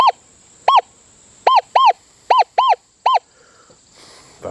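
Seven loud warbling electronic beeps from a metal detector in an irregular rhythm, each rising then falling in pitch, close and clear over a faint steady whine.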